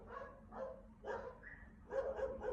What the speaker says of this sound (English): Can hear some dogs in the background over there.